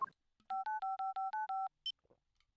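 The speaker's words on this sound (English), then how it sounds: "Try dialing the number that he gives us." A cell phone in the video game Apollo Justice: Ace Attorney plays a quick run of eight evenly spaced dialing beeps, followed by a single higher chime, clean and close against near silence.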